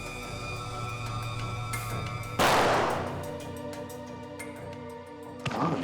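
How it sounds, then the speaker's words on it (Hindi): Gunfire from a robber shooting indiscriminately in CCTV footage played back during a crime investigation: one sharp, loud broadband blast near the middle, with another burst near the end, over a steady background hum. "गोलियां तो लुटेरे ने अंधाधुंध चलाई है सर।"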